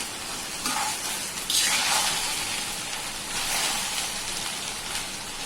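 Okra (bhindi) frying in a pan for a quick home-style bhaji, with a steady broadband sizzle that swells in brief surges as the pieces are gently turned, close and moderately loud with no talking.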